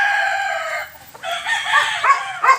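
A turkey calls loudly and close, a drawn-out warbling cry followed by a few shorter, shaky gobbling notes.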